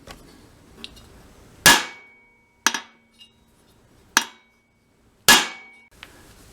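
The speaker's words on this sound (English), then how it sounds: "take ye olde hammer, give it a good whack" Four loud metallic whacks of a hammer striking a Sears Craftsman 21-inch lawn mower flywheel, spaced unevenly, each ringing briefly, with a few small taps between them.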